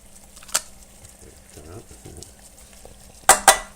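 Mango chunks are stirred into skinless chicken thighs in a pot, with soft scraping and a low frying murmur, bracketed by a sharp utensil knock early and two loud clanks against the pot at the end.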